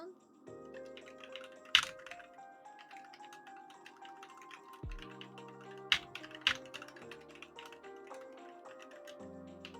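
Typing on a Glorious GMMK2 96% mechanical keyboard fitted with new switches: soft, smooth keystrokes in a quick, irregular patter with a few sharper taps, heard close and fairly quiet.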